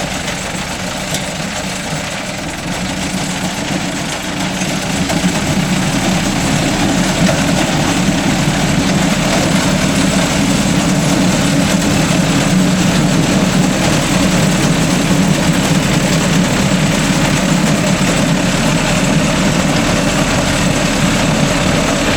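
A Mahindra Arjun Novo 605 DI tractor engine runs loud and steady near a crop cutter at harvest, its low throbbing drone rising slightly after a few seconds and then holding even.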